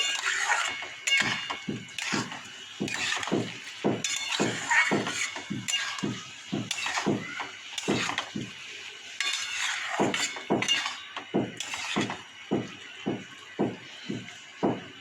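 Sugar being stirred into a pot of bottle gourd and moong dal, with a ladle scraping and knocking against the metal pot in a steady, rapid rhythm of close clinks and scrapes that keeps going without talk.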